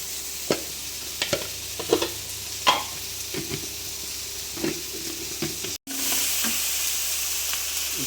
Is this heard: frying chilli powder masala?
yes